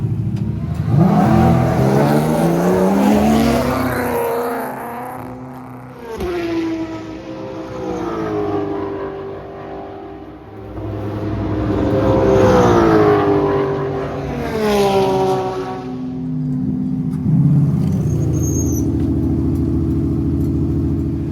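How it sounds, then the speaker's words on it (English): Ford Mustang GT4 race car lapping a circuit during test day at Road America, its engine roaring loud and close, rising and falling through gear changes and passes, repeated across several surges. "We got the race car back out now, and it did a few laps."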